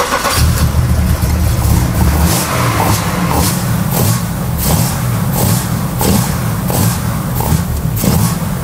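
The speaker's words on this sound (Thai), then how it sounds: "เสียงมันจะเป็นอารมณ์เหมือนแบบยุคแบบเหมือนเครื่องยนต์คาร์บูเรเตอร์" A car engine revs repeatedly with a pronounced air intake roar, the throttle blipping in an uneven rhythm over a steady rumble. It is loud and close throughout, with no speech.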